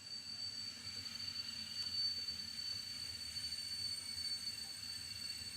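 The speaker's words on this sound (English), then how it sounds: "I'm so sorry about these trains." Trains pass at a distance in a steady rumble, with a thin high wheel squeal running through, faint and continuous behind an otherwise quiet indoor room.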